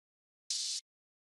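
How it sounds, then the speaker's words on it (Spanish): A single open hi-hat hit: a bright, sizzling metallic hiss lasting about a third of a second, then cutting off cleanly in silence. "Y el Open Hat suena así"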